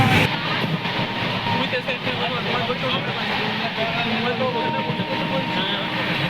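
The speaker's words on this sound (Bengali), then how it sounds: "ট্রেন ছাড়ার পর তো বেশ ভালোই স্পিড ধরে নিয়েছে।" The Kamrup Express passenger train runs at speed, heard from inside the carriage as a dense, steady roar of rolling wheels and rattle, with faint voices underneath.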